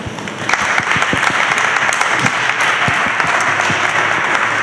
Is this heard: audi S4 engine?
no